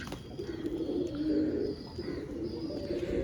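Pigeons coo in a low, continuous murmur while drinking water, several birds close by with a steady, rolling warble throughout.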